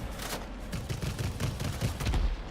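Aircraft cannons on a British Supermarine Swift jet fighter in World of Warplanes fire in short rapid bursts, dense rattling volleys following one another with brief gaps, loud and close.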